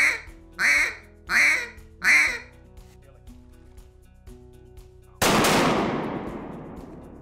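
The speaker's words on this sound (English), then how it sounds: "we're gonna put the little whine on there by raising the tongue." Four short, evenly spaced quacks blown on a handheld duck call, each with a slight whine at the end from a raised tongue, close and clear, then a sudden loud burst of broadband noise that slowly fades.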